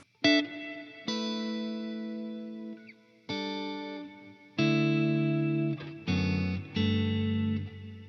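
An electric guitar played through a reverb pedal, a series of strummed chords, each ringing out with a lingering, washy tail before the next, with brief gaps between them.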